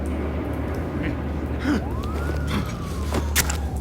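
Police siren in the Batman: The Telltale Series video game, a single wailing sweep rising and falling faintly in the distance over a low, steady background rumble with scattered clicks and knocks.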